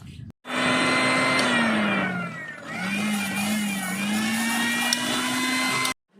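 A mixer grinder runs with a loud, steady motorized whine and droning hum, almost continuous, dipping slightly in pitch midway, then cuts off abruptly near the end.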